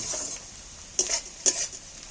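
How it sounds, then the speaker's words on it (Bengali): Onions fry in oil over tempering spices, a soft sizzle broken by two sharp spatula scrapes against the pan, short and close. "পেঁয়াজগুলো তেলের উপরে, ফোড়নের উপরে তুলে দিয়ে পেঁয়াজগুলো আমার ভাজা হয়ে এসেছে।"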